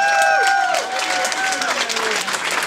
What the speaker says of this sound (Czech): všechny si zaslouží velký potlesk a to právě teď